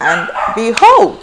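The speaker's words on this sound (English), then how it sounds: "I'm sorry about the dog barking." A dog barks and yips a few times close by, overlapping a woman's speech.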